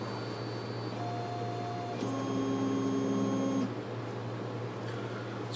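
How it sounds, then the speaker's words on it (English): A Solidoodle 3 3D printer hums steadily while its extruder heats, and stepper motors whine in several sustained tones as the print begins. The sound is close and mechanical, with no talking. "It's just waiting for the extruder to heat up to the final bit."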